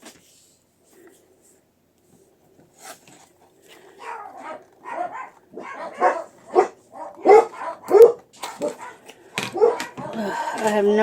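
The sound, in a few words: dogs barking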